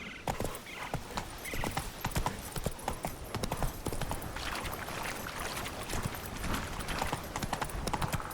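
Roach the horse in The Witcher 3 trots with quick, continuous hoof clip-clops, close and fairly loud, with faint game ambience behind them.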